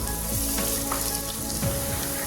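Thinly sliced medium onion sautéing in a pan for a Punjabi dhaba-style dal curry, giving a steady close sizzle with small crackles throughout, with no talking.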